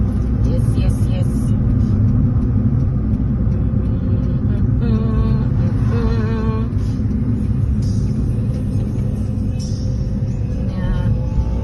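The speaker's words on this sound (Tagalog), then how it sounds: "Medyo busy na ang dalan." Cars passing on a busy road, heard as a steady loud rumble of engines and tyres with no break, and people talking over it.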